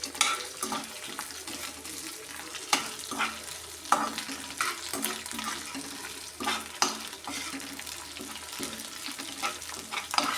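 Karam rice stirred in a pan over the heat, with repeated soft scraping and clinking of a spoon at an uneven rhythm over a faint background sizzle, close and without talking.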